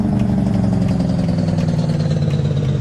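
A Peterbilt 377 truck in American Truck Simulator idles with a Cummins N14 525 horsepower engine, a steady low diesel rumble with a fast, even pulse and no voices over it.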